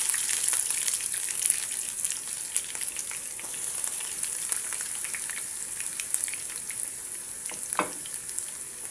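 Chopped onions and garlic fry in hot oil in a home kitchen pan, giving a steady, close, crackling sizzle with light stirring scrapes and a brief clink near the end.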